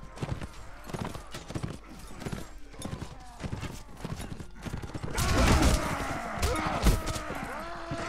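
Horse hooves gallop in Mount & Blade, a rapid clip-clop rhythm running throughout, joined midway by louder battle clatter and impacts from the medieval combat.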